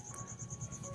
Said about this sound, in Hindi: मे भी झींगुर की आवाज़ भी आ रहे होंगे